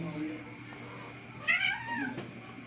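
A pet cat gives one clear, rising-and-falling meow at close range, with a softer follow-up cry, over quiet background noise.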